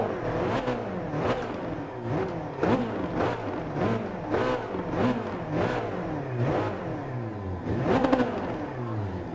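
An Alfa Romeo 4C Gr.3 race car engine in Gran Turismo Sport, revving repeatedly in rising and falling bursts, loud and close, with gear-change dips between pulls.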